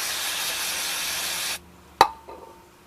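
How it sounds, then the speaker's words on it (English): Brake cleaner sprays onto a rear brake part from a 2003 Toyota Camry, a loud close hiss lasting about a second and a half, then a sharp clank of metal afterward. "You can also use the brake cleaner for it"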